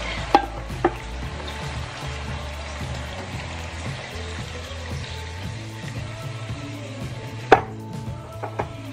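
Coconut milk curd (latik) fries and browns in a pan, a soft continuous sizzle broken by rhythmic stirring scrapes and a few sharp clacks of a utensil against the pan.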